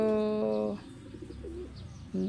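A strong, tonal call opens loudly and breaks off, then low pigeon cooing burbles quietly before another brief tonal burst at the end.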